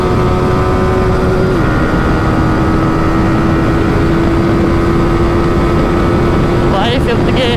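A KTM motorcycle in fourth gear during a drag race, its engine holding a loud, steady high drone with wind rush, a voice briefly heard near the end.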